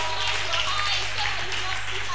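Church congregation clapping as an offering, a dense wash of applause steady throughout with a low hum and crowd noise underneath.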